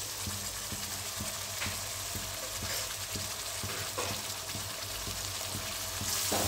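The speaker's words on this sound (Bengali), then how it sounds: "এবার একটু কষে নেই" Spiced pea and potato ghugni sautéing in a pan, a steady sizzle with repeated scraping stir strokes at a close, even level, with no voices.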